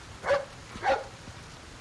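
A dog in the video game Resident Evil 4 gives two short, clear barks about half a second apart over quiet game ambience.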